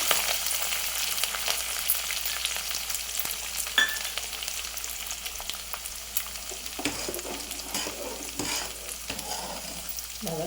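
Spinach, green chilies and curry leaves frying in hot oil in a Tamil home kitchen, a continuous close hiss of sizzling with occasional stirring scrapes and clicks throughout.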